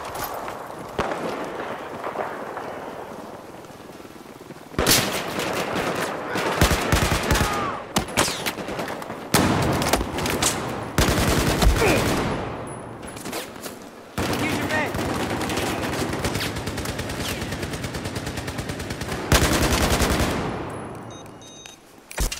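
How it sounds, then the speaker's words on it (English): Machine gun fire in Battlefield 4, loud bursts of rapid automatic shots repeating in several long volleys with short pauses between, close and dense. "Machine gun."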